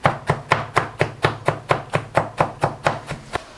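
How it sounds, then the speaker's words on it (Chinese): A kitchen knife chops crushed peanuts on a cutting board, about fifteen sharp, evenly spaced thuds in a brisk, steady rhythm, close and clear with no talking. "花生用瓶子碾开后，再用菜刀剁碎一点。"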